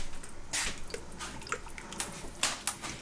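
A spoon stirs a wet homemade pasta sauce mix with salt in a pot, giving soft squishy, sloppy swirls and a few small liquid splats, close and fairly quiet, with no talking.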